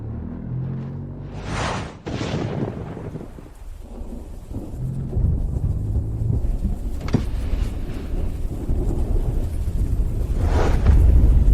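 Thunder cracks loudly twice up close, then rolls on as steady heavy rain builds into a dense, continuous roar.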